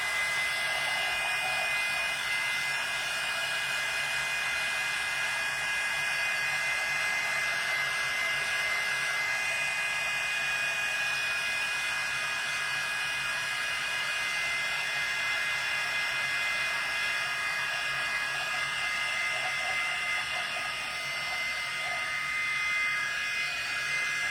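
A hair dryer blowing steadily on a wet craft piece, a bird house turned mini beach house, with a continuous close whir that holds constant throughout.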